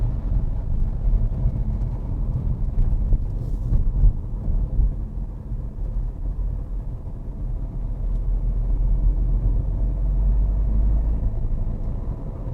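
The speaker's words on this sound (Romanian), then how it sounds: "Acum mergem pe un drum care este practic inundat de apă." Dacia Duster driving along a flooded road, a steady low rumble of the car moving through water with some wind buffeting the microphone and occasional splashy surges, continuous and without talk.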